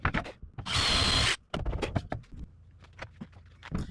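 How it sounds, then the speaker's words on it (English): A power drill fitted with a countersunk bit bores into wood where two cleat pieces join, a loud burst of under a second, framed by close clicks and knocks of handling on a workbench. "So we drill it where the two are going to join together."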